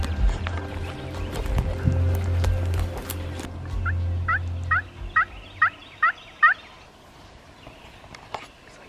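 A wild turkey gobbles in response to hunting calls in Alabama turkey woods. A quick series of about seven sharp, evenly spaced bursts follows a rumbling stretch of low noise, with a few scattered calls after.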